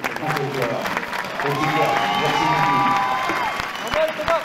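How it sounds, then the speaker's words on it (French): A crowd greets two sailing skippers arriving at the finish, with applause and cheering mixed with shouts, while voices talk and call out over the noise, loud and sustained throughout. "Il faut les applaudir tous les deux"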